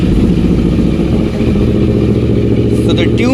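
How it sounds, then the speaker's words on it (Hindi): A Moto Morini X-Cape adventure motorcycle with a 650cc parallel twin engine idles steadily and loudly close by, a dense rumbling drone with slight revving toward the end. "and it's a parallel twin engine 650cc,"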